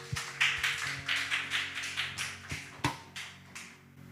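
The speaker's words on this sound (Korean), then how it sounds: "하나님께 감사와 찬양의 박수 올려드리시겠습니다" A church congregation claps in praise during a Sunday service, with a roughly steady rhythm of about three claps per second and faint music or tones sustained underneath.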